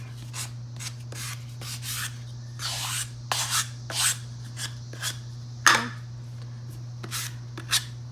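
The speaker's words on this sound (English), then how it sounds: "I've got this 220 block. I'm just gonna sand it really quickly. Get any of those rough edges off." A 220-grit sanding block rubs against rough edges of a small craft piece in short, separate strokes, each a faint scratchy swish, with a low steady hum running underneath.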